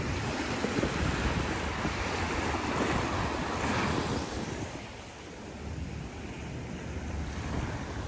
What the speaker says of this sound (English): And here you have it, the crystal clear waters of Barbados.